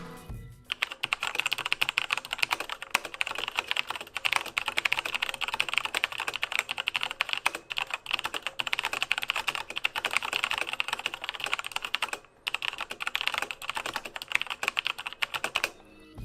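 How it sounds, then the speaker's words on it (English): Continuous, fairly quiet typing on a Patriot Viper V760 mechanical keyboard with Kailh brown switches, with dense, steady keystrokes and no talking. "I'll do a sound test for you guys so you can hear how they sound."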